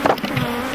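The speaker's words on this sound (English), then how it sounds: "As more hives are opened, thousands more bees come out to defend them." A close, dense buzz from a swarm of honeybees pouring out of opened frame hives in Africa, a brief burst of insect drone.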